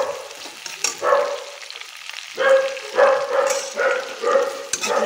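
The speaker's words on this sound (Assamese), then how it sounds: "বাহিৰত কোনোবা আহিছে হ'ব হেতু কাৰণে ভুকি আছে" A dog barks outside in repeated short bursts, somewhat distant, behind the steady sizzle of oil frying in a kitchen where duck gravy is being cooked.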